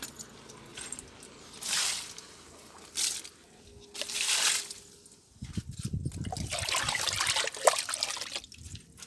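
Sour buttermilk is poured onto the base of potted plants, giving soft splashing and trickling bursts up close with a steadier pour toward the end.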